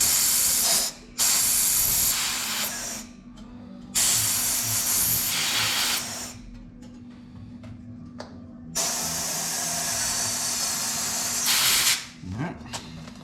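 Air rushes in loud, steady bursts of hissing as a tubeless gravel bike tyre is inflated through its valve, with several long blasts separated by brief pauses and light handling clicks, while a voice speaks quietly in the background.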